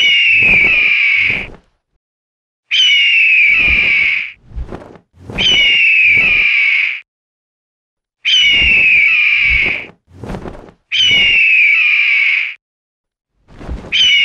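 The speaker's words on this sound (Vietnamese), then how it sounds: "Chim đại bàng. Chim đại bàng." An eagle calls in repeated loud, shrill screeching bursts, each about a second long with short sharp notes between, separated by brief silences.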